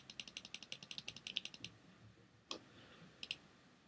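Mouse button clicked rapidly and repeatedly in a quiet room, a fast even train of about twenty sharp near clicks over a second and a half, then a few isolated clicks after a pause.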